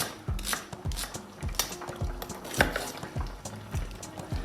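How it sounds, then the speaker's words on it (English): Onions roughly chopped with a knife on a cutting board for a red pepper cream, giving a steady series of close, crisp thuds and slicing strokes, about a dozen in quick irregular rhythm with faint kitchen noise between. "So I can start chopping the onions roughly, not too thin."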